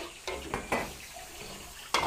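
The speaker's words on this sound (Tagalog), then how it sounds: "Gisa po natin yung ating sahog at ay balunan." Chicken liver and gizzard sautéed in a pan, with soft sizzling broken by a few sharp scrapes and clinks of a spoon stirring against the metal, at close range with no talk.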